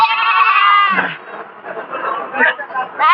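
Goats bleat loudly and close by at the Puthiyamputhur livestock market: a long, strained bleat and then several shorter cries, with people chattering in the background.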